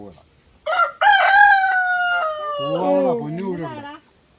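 A nearby rooster gives one full, loud crow of several seconds, rising and then trailing off, with little else around it.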